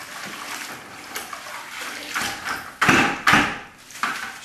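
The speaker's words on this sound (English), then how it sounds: "dip it in the water" A fiber rush strand is dipped in water and shaken off, giving soft splashes and drips that peak in two sharp wet bursts near the end.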